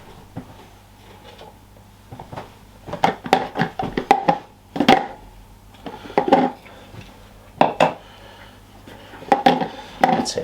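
Ninja CREAMi ice cream tubs being handled in a kitchen: a run of sharp, close plastic clatters and knocks, some in quick clusters and others spaced apart, over a low steady background hum.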